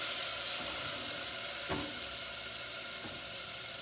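Garlic fries in a pan for meatballs with a steady, close sizzle and hiss throughout, broken by one or two faint stirring scrapes.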